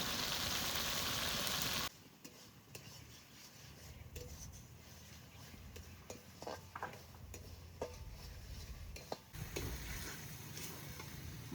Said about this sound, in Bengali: মশলা সুন্দর করে কষিয়ে নিয়েছি